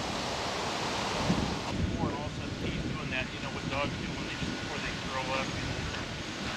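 Ocean waves wash onto a beach in a steady, rushing roar, with heavy wind buffeting the microphone throughout and faint voices now and then in the background.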